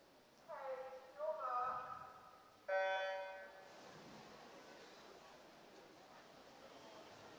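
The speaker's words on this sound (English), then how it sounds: "Underway then with a comedy whistle to start." Comedy whistle starting a boys' 100 m freestyle heat at a county swimming championship, two sliding toots and then a longer blast, heard up close over faint poolside ambience.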